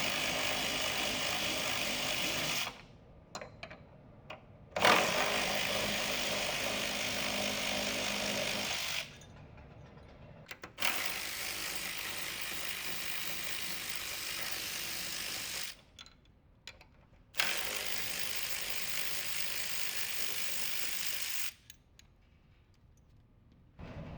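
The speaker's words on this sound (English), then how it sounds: "we're just going to use our 10 mil and our automatic ratchet to go ahead and mount" A 10 mm socket on an automatic ratchet tightens the intercooler bottom mounting bracket bolts on an IMR Stinger install, giving loud, close whirring bursts of several seconds each, separated by short pauses, repeating four times.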